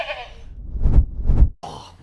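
A goat bleat sound effect sounds twice in quick succession, two loud, rough, wavering cries framed by brief voices talking just before and just after.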